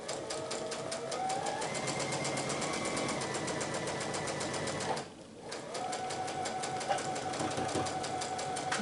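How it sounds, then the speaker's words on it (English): A sewing machine stitching fabric for a quilt block: a steady, close, humming mechanical whir with a rapid regular needle rhythm, pausing briefly midway before resuming. "So I'm going to put it back under the machine now, and I am going to begin sewing."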